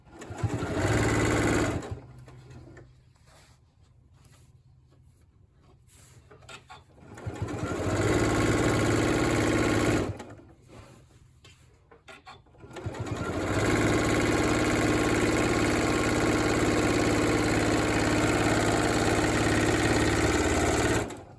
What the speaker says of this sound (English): then I'll meet you back at the sewing machine